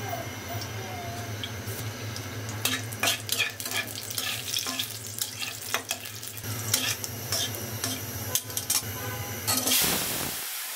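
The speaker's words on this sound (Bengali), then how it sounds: "আমি তেজপাতা দেবো না, দেবো একটা শুকনো মরিচ বলে রাঁধুনি, এটাই ফোড়ন দেবো।" Dried chili and radhuni seeds crackle as they temper in hot oil, a close, steady sizzle with frequent stirring scrapes and clinks, ending in a sudden louder whoosh of sizzling.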